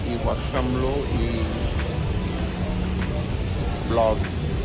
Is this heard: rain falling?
yes